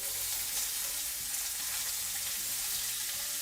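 Steak sears in a hot pan for steak au poivre, a loud, steady broadband sizzle and crackle that holds close and continuous throughout, with faint low clatter underneath and no voices.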